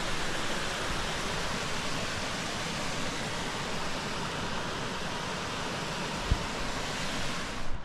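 Creek water rushes over small rapids in a steady, dense wash of broadband noise that stays at an even level throughout, with no voices.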